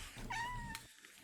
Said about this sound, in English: I have to move this cat.